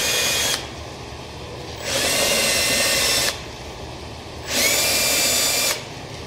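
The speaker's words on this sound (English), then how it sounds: "so we're going to use a deburring bit." A drill with a deburring bit works the edges of small holes during a Land Cruiser snorkel install, sounding as three loud, whirring bursts of about a second and a half each, separated by short pauses.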